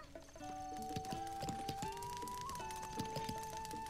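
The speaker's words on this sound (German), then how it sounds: "Das legendäre Pferd Epona." Rhythmic clip-clop of a horse's hooves trotting in The Legend of Zelda: Breath of the Wild, over a sustained musical tone, with a few soft knocks, fairly close and even.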